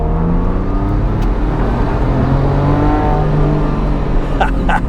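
A supercharged Porsche 911 pulls hard under a loud, continuous engine note that climbs smoothly through the gears with a faint whir, close and unbroken for about five seconds, with no talk.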